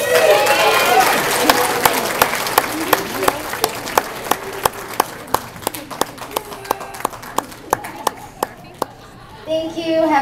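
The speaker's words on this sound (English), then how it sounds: "Let's give a round of applause for all the teams joining us." Clapping at a Thanksgiving school assembly: a fuller burst of applause with children's voices at first, thinning into a few sharp, evenly spaced claps that carry on alone before a voice returns at the end.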